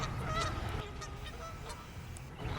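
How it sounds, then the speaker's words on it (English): Geese honking at a duck pond in West Newton, Pennsylvania, several birds calling back and forth in a steady chatter at moderate distance, fairly faint, without speech. "Oh, the geese have arrived."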